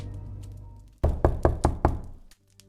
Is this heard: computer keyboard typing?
no